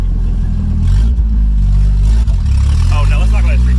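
A Nissan D21 pickup truck engine hums loud and close, rising as it accelerates, with a steady low drone throughout and a voice talking over it.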